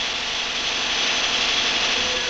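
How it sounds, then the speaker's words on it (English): A 1,300-horsepower ČKD diesel locomotive engine from 1966 running on a test stand during its first run, a loud, steady, broadband roar and drone that holds constant with no voices. "This engine is being turned over for the first time."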